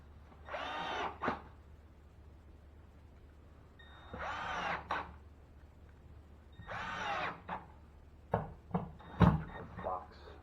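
A drill drives screws into the drywall base of a water-damaged wall during sheetrock repair, with three distinct whirring bursts followed by sharper clacks and clatter near the end, and faint voice sounds in the background.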